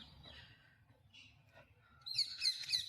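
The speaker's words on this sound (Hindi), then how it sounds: "साथ ही साथ आपको यहाँ पे चिड़ियों की चहचहाहट भी बहुत ज़्यादा सुनने को मिलेगी" Birds chirp at Delhi's Old Fort, a quiet stretch giving way to a burst of bright, repeated high tweets in the last second, fairly close and clear.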